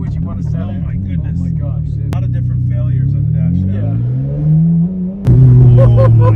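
Ferrari 599 driving, its engine droning and rising in pitch as it accelerates, loud and close inside the car, with people talking over it.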